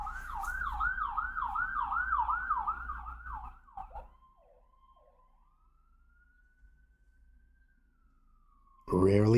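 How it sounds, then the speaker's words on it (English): Emergency vehicle sirens pass outside, a fast yelping warble that gives way to a drawn-out rising and falling wail fading into the distance, before a sudden loud burst of another sound cuts in at the end. "I'm going to wait till the sirens end."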